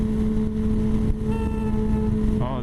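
A 2011 Honda CBR600RR motorcycle engine while riding, holding a steady, sustained drone at constant revs with a whistling tone and some wind noise, then a brief rise at the end.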